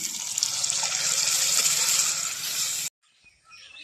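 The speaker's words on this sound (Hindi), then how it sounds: "अब हम इसमें डाल देते हैं पानी।" Water poured into a pan of fried masala for a raw banana curry, a loud steady splashing stream lasting a few seconds, close, then abruptly stopping into quieter stirring sounds.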